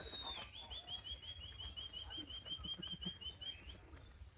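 A male tolgoram pigeon flaps its wings in rapid, evenly spaced beats that are faint and distant. A thin, steady high tone runs alongside the flapping.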